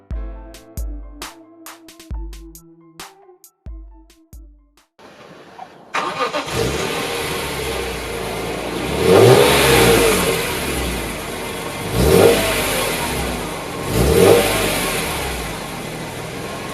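A BMW E46 M3 convertible with the 3.2-litre S54 straight-six and six-speed SMG gearbox cranks and fires up, settles into a busy idle, then gets three sharp revs that rise and fall, loud and close.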